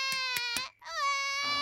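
An animated baby cries in a cartoon: three short sharp wails followed by a longer drawn-out sobbing cry, loud and close, with no talk over it.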